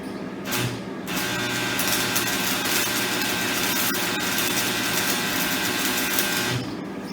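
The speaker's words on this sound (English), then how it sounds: "watch what happens when I use a stick welder" A stick welder striking an arc in a workshop, giving a steady, loud crackling buzz that runs for about five and a half seconds before cutting off, with no talk over it.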